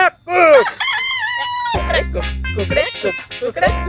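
People in a village game imitate a rooster crowing, with a voiced cock-a-doodle-doo calls repeated several times, loud and close, mixed with shouting voices.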